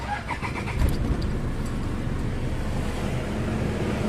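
A 2008 Toyota Innova engine, back after a fuse repair following a fire on top of it, cranks and catches just under a second in, then settles into a steady idle rumble mixed with wind-like noise.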